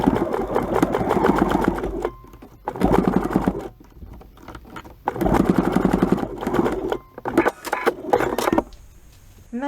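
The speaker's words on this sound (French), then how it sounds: "Je vais venir coudre à la machine au bord." A sewing machine runs close and loud as it stitches along the edge of a three-layer fabric mask, in several fast whirring bursts with brief pauses between them.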